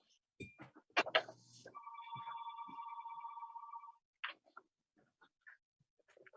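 Telephone ringing in a home during a village trustees' online meeting: a long electronic ring tone sustained for about two seconds, with clicks and bumps around it and a few faint sounds after, fairly quiet.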